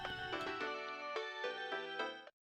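A phone ringing in the Steins;Gate 0 video game, a bright electronic melodic ringtone of short stepped tones, clear and close, ending abruptly after about two seconds.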